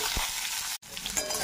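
Raw mango fries with panch phoron and a dried red chilli in mustard oil in a pan, giving a loud, close, crackling sizzle with soft stirring, broken by one abrupt instant of silence.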